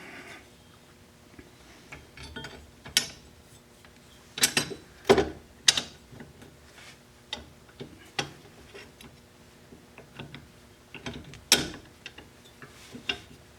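A bolt is threaded by hand into the back side of a brake caliper bracket on a Toyota Corolla, giving quiet irregular metallic clicks and taps with a few louder clunks.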